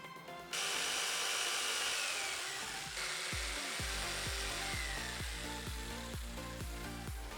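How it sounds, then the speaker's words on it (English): A jigsaw saws a long strip from a plywood sheet, starting abruptly into a loud continuous buzz, then settling into a rapid regular cutting rhythm, close and alone with no voices. "now I'm gonna grab the jigsaw and cut out a long strip from this piece of plywood"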